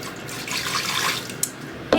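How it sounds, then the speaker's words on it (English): Water poured from a cup into an Instant Pot with a rack inside, a steady close splashing stream lasting about two seconds, ending with a small clink. "I'm gonna go ahead and add 1 cup of water"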